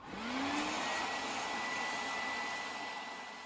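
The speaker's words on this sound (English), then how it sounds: "I removed paint from my rails with a wire wheel brush and a Dremel tool" Dremel tool fitted with a wire wheel brush stripping paint from model railroad rails, a steady high whirring drone with a brief rising pitch at startup, close and continuous.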